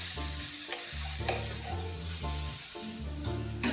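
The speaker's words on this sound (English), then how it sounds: "cooking over high heat and of course stirring with some salt and cracked pepper and a clove of garlic in it" Eggplant fries over high heat in a pan with salt, cracked pepper and a garlic clove while being stirred. Close, steady sizzling runs throughout, broken by repeated scraping stirs, with a tonal hum in the background.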